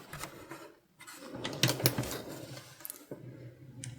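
A sewing machine stitches a zipper onto a fabric makeup bag in close, quiet bursts of rapid mechanical clatter broken by brief pauses.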